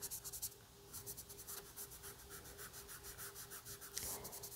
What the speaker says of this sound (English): And then I'll probably come in with the blending stump as well.